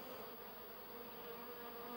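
Honey bees buzzing, a dense continuous drone of many wings close by, steady and unbroken.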